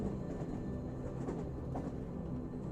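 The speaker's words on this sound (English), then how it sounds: "The familiar sound of the clacking wheels" Train wheels clack on the rails during a night journey, heard as a steady, muffled low rumble with faint repeating knocks that carries on evenly throughout.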